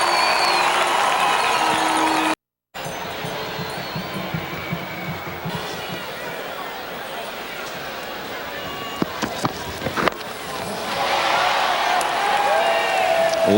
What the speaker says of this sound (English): The crowd are really leaping around here in St Vincent, celebrating 2 wickets for Nixon McLean.